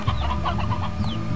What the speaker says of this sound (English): Look, another one. A stony hen.